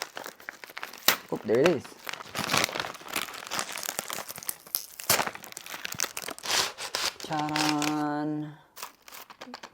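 Cardboard perfume box packaging torn open by hand without scissors, with repeated crinkling and ripping bursts close up, mixed with a person speaking and a short chime near the end.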